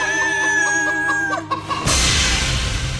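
Chickens in a coop on a TV game-show obstacle course cluck and call in a steady stream of clear, close bird sounds, then a sudden broad noise burst swamps them for the last second.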